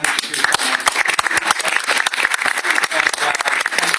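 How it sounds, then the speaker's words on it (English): Dense, loud applause from an audience at a university farewell gathering for Jennifer Altman, head of CAG, with steady clapping filling the whole stretch and voices faintly mixed in. "You can give her a big round of applause."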